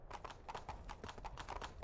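Horse hooves from the game Skyrim clatter in a steady, rapid clip-clop gait, loud and close, continuing evenly with no talk over them.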